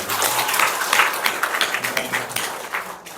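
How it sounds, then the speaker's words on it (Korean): Congregation in a church clapping together during a Sunday service, a dense, steady wash of many hands that tapers off near the end. "우리 박수 한번 하십시다."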